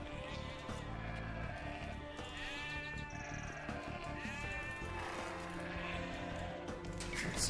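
Sheep bleat repeatedly in the video game Saladin 2, a few drawn-out calls rising over a steady, busy game soundscape with low rumbling background.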